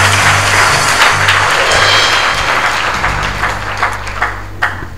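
Church congregation applauding, a dense, loud burst of many hands clapping together that fades slightly toward the end.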